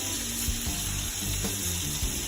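A dry-aged Blackmore Wagyu rib being basted with butter in a hot pan, a dense continuous sizzle with a few soft thumps and scrapes of the spoon, close and steady with no talking.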